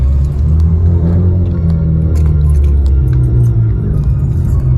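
A loud car engine rumbling and revving at an outdoor car show at Palm Beach Outlets: a heavy, continuous low growl close by that swells and eases, with faint clinks and crowd noise in the background.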